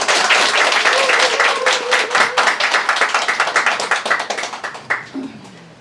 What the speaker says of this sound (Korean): 소개할 때 큰 박수 부탁드리겠습니다